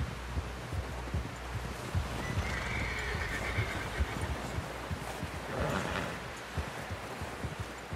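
A horse in Red Dead Redemption 2 whinnies loudly up close while hooves clop steadily underneath, with wind and rustling in the background.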